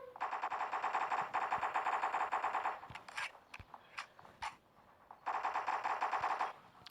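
Rapid automatic gunfire from the Block Strike video game, long sustained bursts near the start and end with shorter single shots and pauses between, loud and close.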